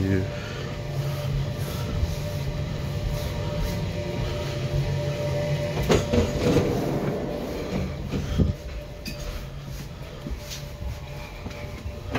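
A Stadler RBe 4/8 train on the LEB line near Lausanne, heard from inside an empty car: a steady low rumble and hum of running with occasional rattles and a thump, while a voice speaks over it.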